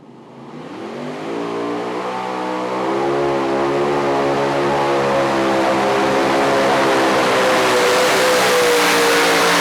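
A huge super modified pulling tractor engine roars up at a tractor pull in Goshen, its pitch and volume climbing steadily into a loud, sustained high-powered howl that fills the whole stretch.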